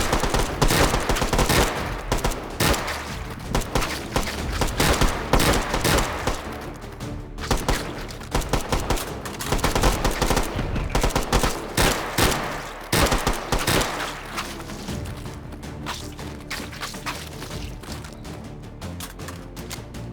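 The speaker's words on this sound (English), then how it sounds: "Again, I'm using that 3-round hyperburst." Rapid bursts of gunfire from a 3-round hyperburst rifle in the VR shooter H3VR, loud and dense, firing repeatedly through the whole stretch with no talking.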